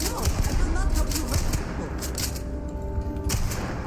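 Gunshots in Starfield, a space game, come as a loud close volley of rapid shots and thumps throughout, with talk mixed in.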